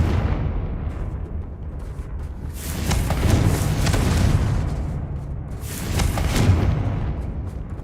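A Confringo explosive spell in the Hogwarts Legacy video game goes off as a loud, rumbling blast, then a second swelling burst follows a few seconds later, with no talking.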